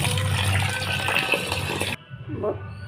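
Mutton is rinsed in a kitchen under running water, a close, steady gush of flowing and splashing water lasting about two seconds, then cutting to quieter handling sounds.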